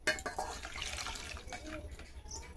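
Running tap water rinsing small chopped apple pieces in a kitchen sink, a steady close splashing and trickling that continues throughout.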